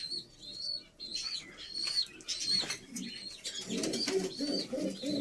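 A group of domestic pigeons, including ghazar and kashkou breeds, coo steadily and close by, with chirps and brief wing flutters mixed into the continuous calling.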